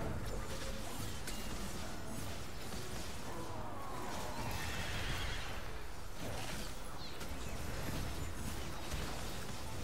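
A horse neighs inside the Teamfight Tactics game, one whinny rising out of a dense, constant wash of game music and effects that runs loud from start to finish.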